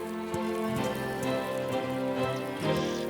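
Steady rain falling across the African savanna, a dense continuous patter of drops on surfaces with scattered louder splashes, heard alone and fairly close.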